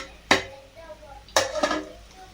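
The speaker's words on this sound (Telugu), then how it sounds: "ముందు కడిగి పెట్టుకున్న బియ్యం వేసి ఇప్పుడు మూత పెట్టుకుందాం" A metal lid set onto a pot of rice cooking for pulao, with two sharp clanks about a second apart followed by a short rattle as it settles, close and fairly loud.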